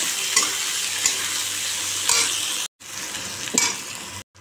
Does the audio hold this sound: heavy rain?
no